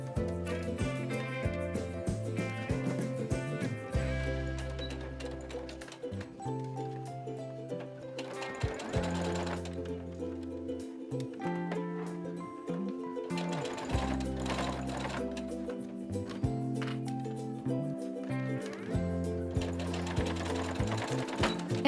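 A sewing machine top-stitches binding on a corduroy camera bag, running in steady bursts of rapid mechanical stitching with short pauses between runs, close and clear over soft background music.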